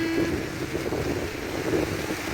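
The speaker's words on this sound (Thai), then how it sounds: "ทั้งลมทั้งฝน" Steady, loud wind with rain noise sweeps around a hut in a rice field during a rainy day, forming a continuous roar with no talking.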